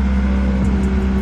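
A car engine idles steadily, held at about 2000 RPM, with a constant loud hum and low rumble, close and uninterrupted, no talk.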